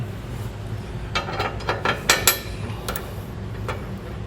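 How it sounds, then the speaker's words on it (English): A ratchet wrench bolts up a Demco Recon underbed fifth-wheel trailer hitch on a 2013 Ford truck, giving close, quick bursts of metallic clicking in short uneven runs, with no talking. "we're going to go ahead and get the rest of the three here bolted up"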